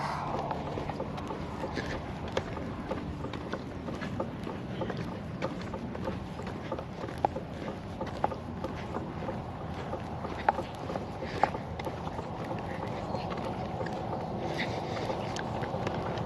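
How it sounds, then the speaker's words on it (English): A steady, low mechanical drone from a tree grinder running by a roadside, heard from some distance with wind noise and no clear breaks. "Yeah, tree grinder."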